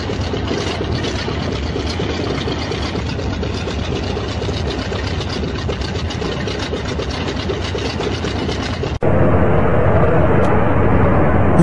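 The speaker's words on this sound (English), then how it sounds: "This plane has propellers." A propeller airplane engine drones loud and steady throughout, its throbbing hum shifting abruptly to a duller, heavier tone toward the end.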